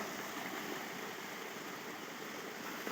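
Water overflows from the top of a tank during chlorine cleaning, a steady, dense rushing gush like a stream or small waterfall that holds at constant loudness, close by, with no talking.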